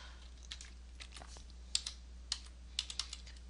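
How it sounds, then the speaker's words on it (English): Fingers type on a computer keyboard in a quiet room, a short run of crisp, irregular key clicks with a few sharper taps near the end, close and alone over a low hum. "let's type our wedding date"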